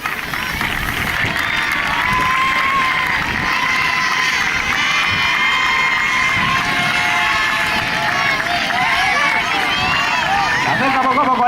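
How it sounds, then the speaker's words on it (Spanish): A crowd applauds and cheers loudly for the president of a Valencia football club at its season presentation, with shouts, whistles and children's voices over continuous clapping and lively babble. "Un aplauso fortísimo para él."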